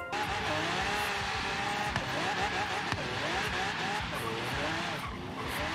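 An engine in the Forza Horizon 3 racing game revs hard on a tuned drift car, its pitch rising and falling continuously with squealing tires and skids throughout, loud and steady, while a voice talks over it.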